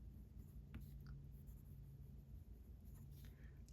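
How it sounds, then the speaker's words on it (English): A Wingsung fountain pen fitted with a Pilot double broad nib scratches softly across paper in a few short strokes, quiet and close. "So let's go ahead and do a little writing sample here."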